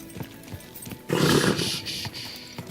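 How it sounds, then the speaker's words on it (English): A horse in the video game Kingdom Come: Deliverance II gives a short snorting whinny with a few hoof clops around it, close and clear, with no talking. "Easy, good horse. You almost ran me over."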